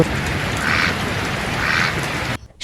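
A duck quacks twice in a cartoon forest scene, two short nasal calls about a second apart over a steady hiss of rain-like background, then sudden near-silence at the end.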